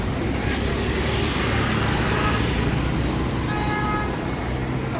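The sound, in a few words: night road traffic in Mumbai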